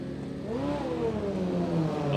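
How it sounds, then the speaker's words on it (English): Kawasaki Hayabusa drag racing motorcycle in the lanes at a drag strip: a steady mid-distance engine drone whose pitch rises and falls as it revs, with a rumbling background throughout. "on the big Kawasaki here in the full tilt transport lane."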